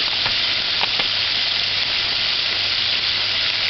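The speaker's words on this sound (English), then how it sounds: "Just allow it to fry on one side for about 4 to 5 minutes with the stove gauge on high" Chicken frying in a pan over a high flame for ackee and chicken, a loud, steady sizzle and hiss that holds throughout with a few faint crackles near the start.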